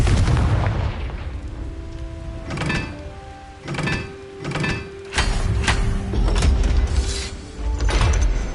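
Explosive Confringo spell blasts in the game Hogwarts Legacy, several booming impacts scattered across the stretch over a steady rumbling game backdrop, with magical crackles and tonal hums between hits.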